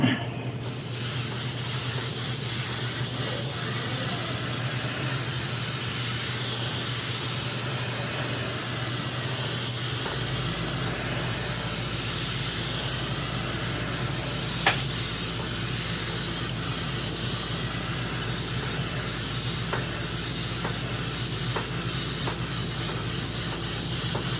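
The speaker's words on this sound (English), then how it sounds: "to even out your airbrush strokes, you just kind of randomly mist it on" An airbrush misting paint over a 1/5 scale figure gives off a continuous, loud, steady hiss with a faint low hum beneath it, unbroken throughout.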